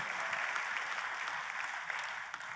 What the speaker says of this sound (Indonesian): Kita kasih tepuk tangan dong yang paling meriah buat Tuhan kita